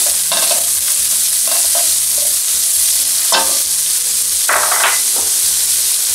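Onion frying in oil with golden garlic, loud steady sizzle throughout with repeated scraping stirs of a utensil in the pan, no talking.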